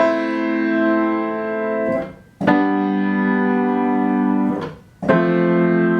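Sustained piano chords ring out, each cut off abruptly into a brief silence as the sustain pedal is released before the next chord sounds, three chords in total.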